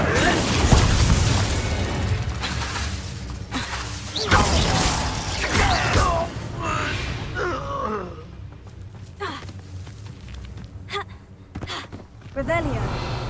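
An Incendio fire spell is cast in Hogwarts Legacy: loud fiery bursts and booms flare amid busy combat noise, with groaning and gasping voices throughout.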